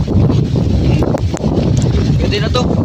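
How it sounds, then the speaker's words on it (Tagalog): Strong wind while fishing from a boat, buffeting the microphone with a loud, continuous low rumble and gusts, with faint clicks and brief voices underneath. "Lakas na ng hangin"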